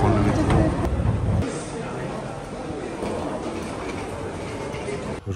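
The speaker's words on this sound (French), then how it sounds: "on va prendre le métro." A metro train running, a loud rumbling and rattling ride with a sharp shift in tone after the first second and a steady roar continuing to the end.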